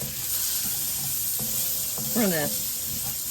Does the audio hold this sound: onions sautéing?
yes